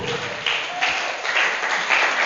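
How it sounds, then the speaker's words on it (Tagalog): An audience at a Christian sermon gives thin, weak applause, a few seconds of light, scattered clapping at moderate level with nothing else prominent. "Mahina ang palakpak."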